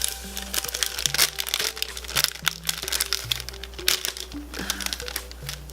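Plastic packaging crinkles and crackles continuously as a 12-pack of rainbow star hair clips is unwrapped, close and busy, with a low hum underneath.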